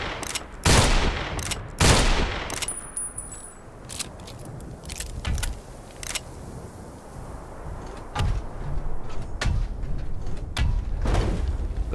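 Pistol gunfire in Fallout 76, a gunslinger build: single sharp shots ring out irregularly, a few loud ones early and more spaced cracks later, over quiet ambient background.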